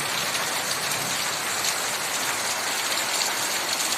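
Heavy monsoon rain pounds a metal sheet roof during a thunderstorm, a loud, dense, unbroken hiss and patter that stays steady throughout with no voices.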